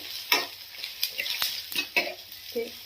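Masala spices fry in a pan with a crackling sizzle, punctuated by repeated clinks and scrapes from a spoon stirring against the metal at an uneven rhythm, close and fairly loud.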